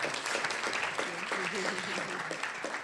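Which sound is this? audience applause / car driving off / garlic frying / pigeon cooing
audience applause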